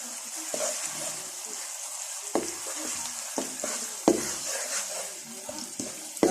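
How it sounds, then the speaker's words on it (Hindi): Onions fry with garlic ginger paste in a pan, a steady bright sizzle broken by scrapes and knocks of stirring, near and moderately loud, with no talking. "प्याज को ब्राउन होने तक फ्राई कर लूँगी। साथ ही इसमें लहसुन अदरक का पेस्ट भी डाल लूँगी"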